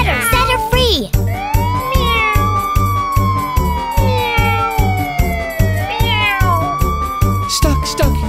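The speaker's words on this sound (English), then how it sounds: "Stuck, stuck, kitty meows." A cartoon cat stuck in a tree meows in drawn-out, sliding cries over a steady, bouncy children's song beat that runs throughout.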